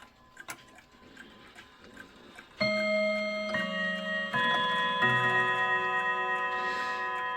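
Soft, steady mechanical ticking from a Seth Thomas Woodbury clock movement out of its case, then its chimes ring out and layer into a sustained, bright ringing that fills the rest.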